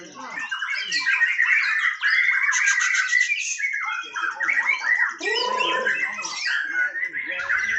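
A white-rumped shama (murai batu) at a songbird contest sings loudly and close, pouring out a nonstop run of varied whistles, trills and sharp chirps with barely a pause.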